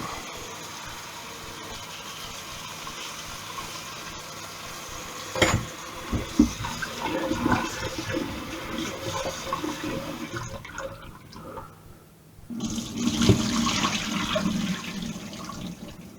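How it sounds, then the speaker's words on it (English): Tap water runs and splashes as fairly large potatoes are washed in a kitchen sink, a steady close gush with handling knocks and bursts, briefly stopping and then resuming. "So fairly decent sized potatoes. Give them a wash."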